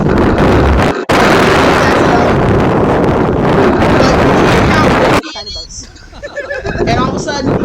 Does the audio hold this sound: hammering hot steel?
no